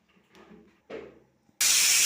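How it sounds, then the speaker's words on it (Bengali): Pressure cooker whistle releasing steam while cooking raw banana with coconut: after a couple of soft knocks, a sudden loud, sustained hiss bursts out close by and continues to the end. "একটা সিটি করে গেছে বন্ধ করে দেবো"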